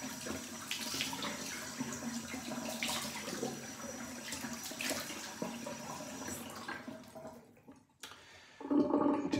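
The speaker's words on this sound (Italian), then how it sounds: "Un'acqua calda che fa sempre attendere" Hot water runs from a tap, a close splashing gush that wavers in strength, briefly drops away near the end, then returns more loudly.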